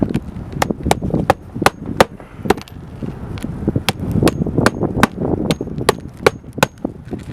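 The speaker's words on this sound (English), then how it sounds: "then we'll get everything nailed in" A hammer drives nails into roof shingles in a brisk series of sharp, close strikes, a few quick taps at a time, with faint scraping between blows.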